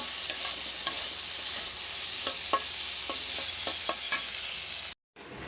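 Mixed pumpkin, pointed gourd and eggplant fry in a pan before prawns are added, a steady sizzling hiss punctuated by repeated scraping stirs, close and alone before cutting out briefly near the end.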